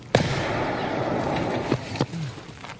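Grenade explosion in Escape from Tarkov, a sudden sharp blast followed by a rumbling tail, then a couple of smaller thuds.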